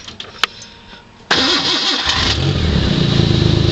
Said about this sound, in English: So I'll start this car up here for you,